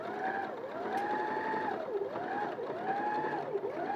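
A sewing machine stitching a shaped seam in fabric runs steadily at a quiet, even speed, its motor whirring up and down in a repeating cycle, close by with no talk.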